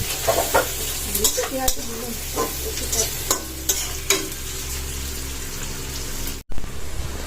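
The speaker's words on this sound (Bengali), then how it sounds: "আমি পেঁয়াজ ভাজছি" Onions frying in a pan of hot oil with a steady close sizzle, broken by several sharp stirring scrapes and clatters; no talking.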